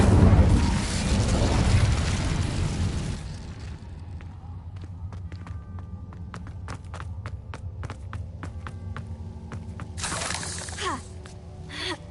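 An Incendio fire spell cast in Hogwarts Legacy: a loud whooshing burst of roaring flame, followed by crackling clicks and a second flaring rush.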